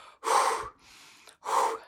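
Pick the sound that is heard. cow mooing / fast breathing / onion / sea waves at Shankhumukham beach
fast breathing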